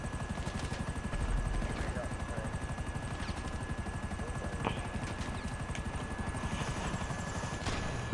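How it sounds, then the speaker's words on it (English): A video game helicopter chases the player, its rotor thumping in a fast, loud, continuous chop that stays close and steady throughout. "There's some bloody chopper after me, like a computer chopper."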